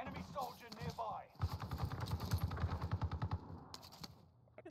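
Rapid video game gunfire crackles in quick repeated bursts, fairly loud and sustained for a few seconds, with game voice lines heard over it at the start.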